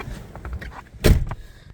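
A car door on a 1997 Mercury Grand Marquis swings shut with a single solid, close thump, preceded by faint interior shuffling and followed by a short quiet settle inside the cabin.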